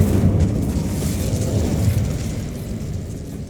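A roaring, rumbling burst of the Incendio fire spell in Hogwarts Legacy, heavy in the low end and sustained for several seconds with no voices, fading slightly toward the end.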